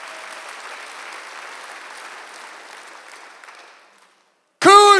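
Congregation clapping during a Sunday church service, a soft, diffuse patter of applause that fades out over four seconds, followed by a sudden loud voice.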